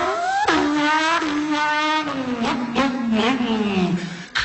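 A person's voice imitates a turbocharged race car engine, rising and falling vocal revs and whooshing shifts repeated several times in quick succession, loud and close.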